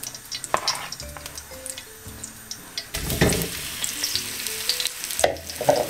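Beef browns in a pan for Brazilian beef stroganoff, sizzling and crackling up close while stirring scrapes and clinks break in, with a surge of louder frying midway.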